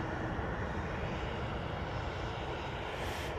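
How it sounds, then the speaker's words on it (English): A Virgin Atlantic Airbus A330-300, flight VS86 from Las Vegas, lands at Manchester Airport. A steady broad engine roar fills the whole stretch, loud and continuous, with no voices. "This is VS86 coming in from Las Vegas. Flight time of 9 hours and 1 minute. Of course, using their iconic 330-300."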